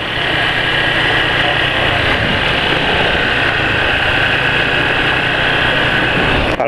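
A 2018 Yamaha NMAX scooter idles up close with a steady, unbroken engine hum and buzz, holding constant throughout without any talking.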